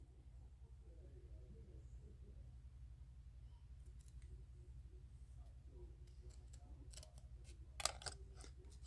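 Small scissors snip around water slide decals for a custom diecast model car, a few quiet close clicks and cuts grouped near the end over a low steady hum, with no talking.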